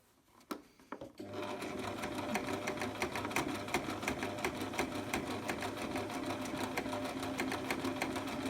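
A sewing machine stitches fabric for a fabric basket, starting after a few clicks and then running continuously with a fast, even mechanical rattle, close and clear with no talk.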